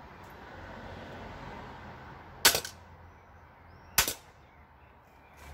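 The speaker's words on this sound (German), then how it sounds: "Einmal spannen, zweimal schießen." A TwinStrike Adder toy blaster fires two sharp, close cracks about a second and a half apart over a quiet outdoor background.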